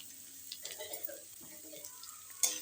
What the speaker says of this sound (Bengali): এবার এই মূলোটাকে আমি ভালো করে একটু ভাজা ভাজা করে নেব